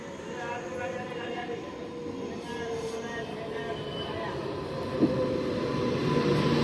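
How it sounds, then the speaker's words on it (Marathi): Steady low rumble of a train arriving at Vitthalwadi station on the Ambernath line, growing slightly louder, with a brief metallic clank partway through and murmured voices nearby. "अंबरनाथ ट्रेन आता लागलेली आहे."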